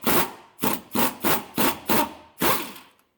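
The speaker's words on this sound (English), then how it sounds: "I know it's a chrome socket and I'm using an impact" An impact wrench with a chrome socket hammers on a shock bolt of a 2004 Toyota Tundra in seven loud, close bursts of rattling, each cut off sharply, with a slightly longer final burst.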